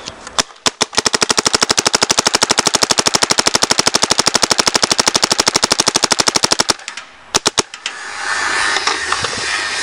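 A paintball marker fires a long rapid burst of dozens of evenly spaced shots close by, followed by a few separate single shots and then a steady hiss of air.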